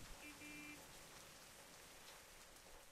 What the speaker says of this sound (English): There, you got wet in the rain.